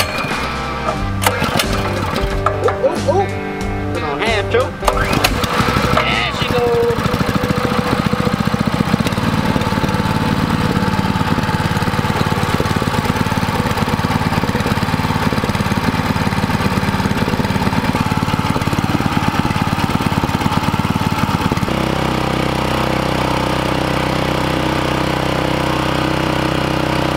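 A small engine on half choke, likely a pump being used for hurricane cleanup, sputters and fires up, then settles into a steady, loud running drone that continues alone, with a drop in pitch near the end.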